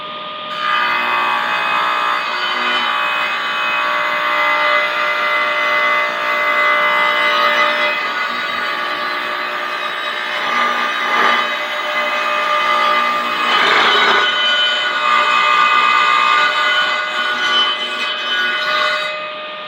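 Oak timber fed through a thicknesser and planed down to final thickness, a loud steady machine roar with a rising cutting whine through most of the stretch and slight surges as the board passes, no talk.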